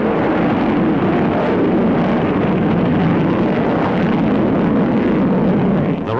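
An SM-62 Snark cruise missile roars at launch, its booster thunder a loud, steady, broadband rumble that fills the whole stretch without pause.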